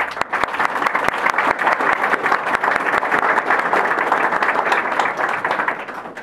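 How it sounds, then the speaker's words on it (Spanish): Large audience applauding athletes at a kit presentation for the national youth sports games, with dense, energetic clapping sustained at a loud, steady level and a few sharper individual claps standing out. "yo voy a pedir un enorme aplauso para todos ellos."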